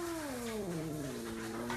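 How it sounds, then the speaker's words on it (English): An old house cat, about 16 years old, gives one drawn-out, falling meow, soft and fairly close, with no talking over it. "That's our cat, Max."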